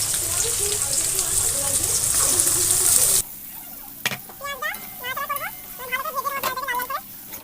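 Chopped onions hit hot oil with cumin and bay leaf, giving a steady bright sizzle for several seconds before it cuts off, followed by someone talking over faint background sound.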